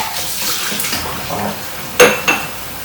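Tap water runs into a sink while soapy dishes are rinsed, a steady wash of flow followed by two sharp clinks of dishes or cutlery knocking together close by.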